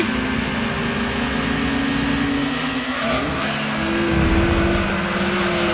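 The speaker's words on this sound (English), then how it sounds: "That engine is straining to grab this freaking fat sucker and pull it up a hill." A car engine in the racing video game Gran Turismo 2 strains steadily uphill, its sustained loud drone holding through the clip with a slight rise in pitch and level toward the end.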